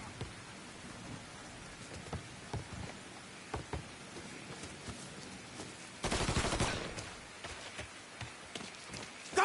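Bursts of gunfire in the crime game Mafia 3 Definitive Edition pop over rain, with scattered shots and one heavy sustained volley midway, fairly distant and moderately loud.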